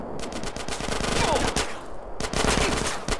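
Rapid automatic gunfire rattles in GTA: San Andreas, a dense, continuous stream of shots at moderate loudness with short pauses, and no one speaking.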